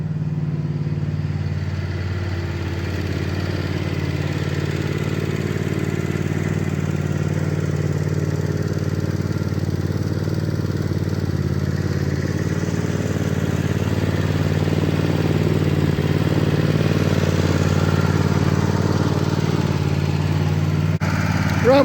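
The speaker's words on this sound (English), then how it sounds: "It's time to pull the tractor out" A tractor engine at a cabin idles steadily after starting, warming up after weeks unused, a continuous low mechanical chug with slight clatter that stays even and fairly close throughout, with no talking.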